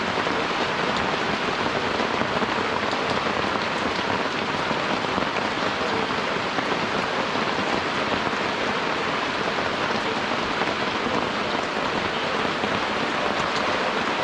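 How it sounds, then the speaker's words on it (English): A heavy rain downpour drums steadily on surfaces nearby, a dense, even hiss that continues unbroken throughout with no voices. "I wasn't expecting a kind of heavy downpour"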